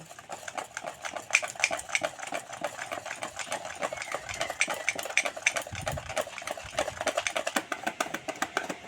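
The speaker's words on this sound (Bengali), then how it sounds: "এবারে খুব ভালো করে মুগ ডালটাকে আমি ফেটিয়ে নেব" Moong dal batter for jilipi whisked hard in a bowl, a fast, even run of rhythmic beating taps and clinks that continues throughout, close and moderately loud, no speech.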